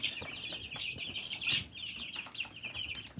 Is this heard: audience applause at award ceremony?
no